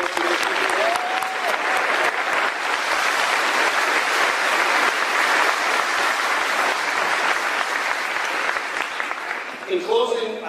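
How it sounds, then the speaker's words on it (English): A graduating class of 2023 at a high school ceremony receives sustained applause from a large crowd, steady clapping filling the hall for about ten seconds before tapering at the end. "We have a round of applause for those people."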